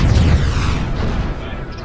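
Missile explosion in the Star Citizen space game: a loud, deep booming blast with a low rumble that decays across a couple of seconds.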